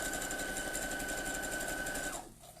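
A sewing machine stitches a spiral log cabin quilt block in one steady, close run of about two seconds, then stops abruptly, with no talking.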